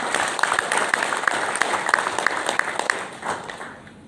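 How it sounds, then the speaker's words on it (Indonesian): A crowd at a political declaration event in Semarang claps steadily, a bright rattle of many hands with sharper individual claps poking through, fading slightly toward the end, with a little voice underneath. "Tepuk tangan buat teman-teman."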